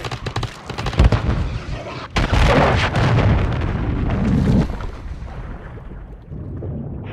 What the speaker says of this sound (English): Friendly cruise missile deployed.